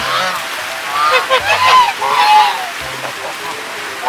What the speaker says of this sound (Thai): เจอพี่ห่าน ระหว่างทาง สงสัยหิว